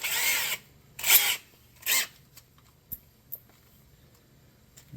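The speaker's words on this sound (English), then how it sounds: "This old drill will last." Three short bursts of a power drill whirring as it drills a starter hole for fuel pump installation, each about half a second, followed by a few faint clicks and taps in a quiet room.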